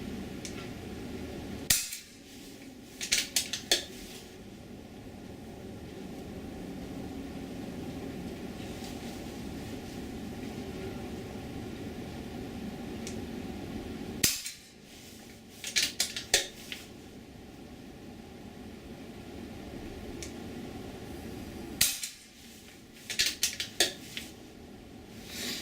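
Three sharp shots from an FX Royale .22 air rifle in cold weather, spaced about twelve seconds apart. Each crack is followed by a brief cluster of metallic clicks from cycling the action, with steady outdoor ambience in between.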